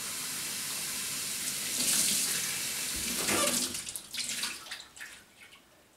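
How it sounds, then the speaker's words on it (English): A glass washed under a running kitchen tap: a steady rush of water with splashing and a brief louder burst as the glass passes through the stream, then irregular splashes and drips. "Last thing to clean, this glass."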